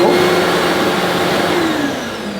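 A Hoover Evo Breeze vacuum cleaner runs steadily on plush pile carpet, a loud continuous motor whine with a slight drop in pitch toward the end, no talking.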